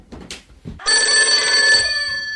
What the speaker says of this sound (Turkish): Aa Nisa kapı çalıyor.